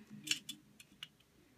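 A razor blade slicing through Nerf dart foam up close: a handful of short, crisp, scratchy strokes at uneven intervals, fairly quiet, with no talking.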